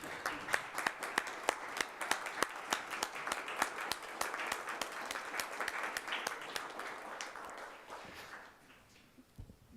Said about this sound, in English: I think a big round of applause for our new director